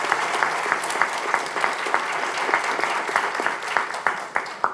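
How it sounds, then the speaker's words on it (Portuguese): Audience at a hospital-management panel applauding the panelists: a steady patter of clapping that thins out, with a few sharper individual claps standing out toward the end. "eu gostaria de pedir uma salva de palmas para os nossos painelistas"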